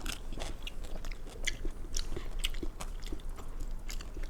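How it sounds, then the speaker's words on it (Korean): Close, steady chewing and crunching of dried anchovies at a home meal, a continuous run of small bites and crunches with no talk. "그러니까 이 멸치도 먹어, 멸치도."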